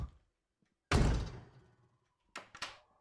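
A door being forced open in the SWAT video game Zero Hour: one loud, heavy crash that rings out and fades, then two sharper bangs in quick succession near the end, with no voices.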